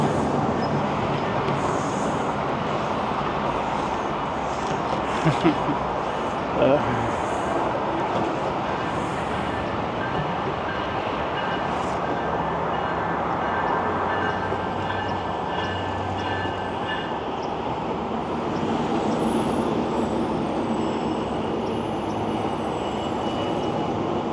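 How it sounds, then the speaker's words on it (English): A train rumbles steadily nearby in Allston, Boston, a broad continuous roar with faint rattling and a brief clunk, lasting the whole stretch with no talking. "Oh, there's a train now."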